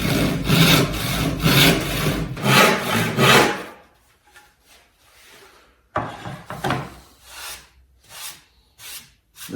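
A hand saw cuts through wood stock in quick, rasping strokes, with a pause in the middle before the sawing resumes more unevenly; no one speaks.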